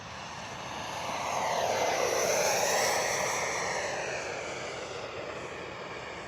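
A radio-controlled F-15 model with twin 64mm electric ducted-fan jets flies low and slow, its whooshing whine rising as it approaches, peaking mid-pass and fading gently away, steady and fairly loud with no voices.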